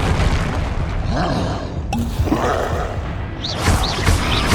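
Repulso spell blasts in the Hogwarts Legacy video game, loud booming bursts with whooshing magical flares, several impacts within a few seconds over a dense game soundscape.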